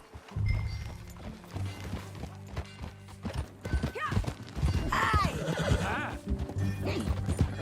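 In the video game Red Dead Redemption 2, horse hooves clip-clop at a gallop while a horse neighs loudly, with a short shouted call and background music, game-like sound effects.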